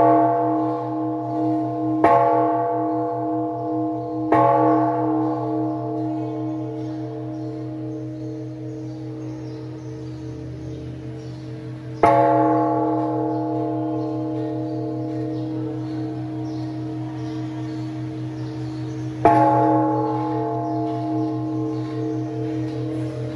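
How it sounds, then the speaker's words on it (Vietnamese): A great temple bell at a Buddhist pagoda is struck four times at slow, uneven intervals. Each loud, resonant strike rings out and decays into a long humming tail. "để mà gõ chuông, gõ đại hùng chung"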